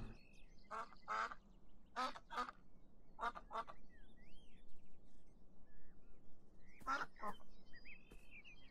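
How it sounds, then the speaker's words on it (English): Ducks in the video game Beyond Eyes give several pairs of quacks spaced across the stretch, clear and fairly close over a soft, steady outdoor ambience with no talking. "They quack!"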